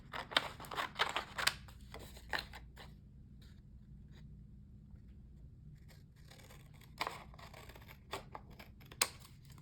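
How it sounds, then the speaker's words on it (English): Scissors snip through manila folder paper in quick bursts of crisp close cuts, pausing in the middle, then more scattered snips near the end with no talking. "Get that cut off and the bottom."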